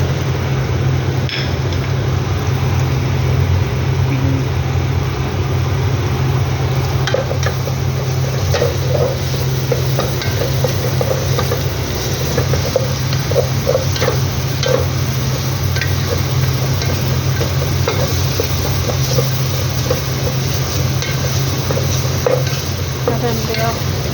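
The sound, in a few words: garlic being stirred and fried for biryani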